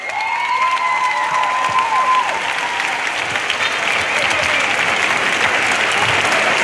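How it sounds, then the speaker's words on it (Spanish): Loud, dense applause and cheering from a crowd at a Christmas lights switch-on with Deportivo de La Coruña at Marineda City shopping centre, sustained throughout, with a couple of tonal whistles or shouts rising over the clapping early on. "fuerte el aplauso para ellos"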